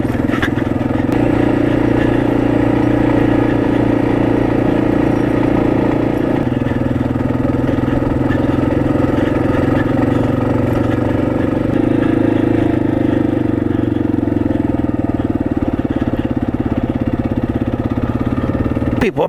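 A dirt motorcycle runs along a single-track mountain trail, its mid-pitched engine droning steadily and close throughout with slight rises and dips in revs and a faint clatter.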